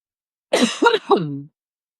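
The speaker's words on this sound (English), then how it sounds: "I have to cough." A single close cough, a short series of rough throat bursts, loud against otherwise silent surroundings.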